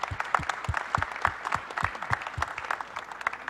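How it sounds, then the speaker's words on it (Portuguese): Audience at a conference panel session gives the speakers a round of applause, dense and even clapping from a room full of people, fairly close and sustained for the whole stretch. "Vamos dar uma salva de palmas para os nossos palestrantes."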